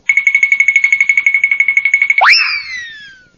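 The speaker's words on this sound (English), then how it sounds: "turn the rocks when you hear Fred's twinkle toes sound like this" Fred's twinkle toes page-turn cue on a Flintstones read-along cassette: a rapid, bright, tinkling chime trill that ends in a springy boing-like swoop and fades out, loud and alone.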